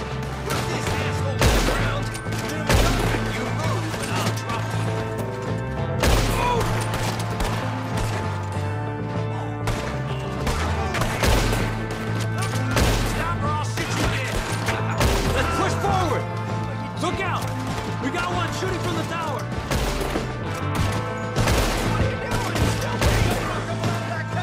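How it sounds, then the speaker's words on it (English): A Red Dead Redemption shootout near a tower, with dense, rapid gunfire cracking throughout over a steady droning music bed, loud and sustained. "Shooting from the tower!"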